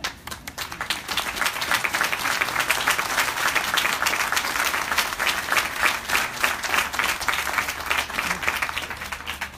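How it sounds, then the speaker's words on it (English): An audience in a university auditorium applauds Mr. and Mrs. Ernie Collins at an auditorium naming ceremony, dense sustained clapping from a large crowd filling the room at steady loudness for nearly ten seconds. "I hope you'll stand up and just turn around and everyone can applaud you one more time"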